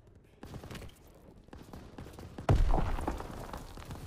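Rapid gunfire from an aircraft gunner in a wartime video game, bursts of shots building under a rumbling battle din, with a heavier blast near the middle and a voice calling out briefly.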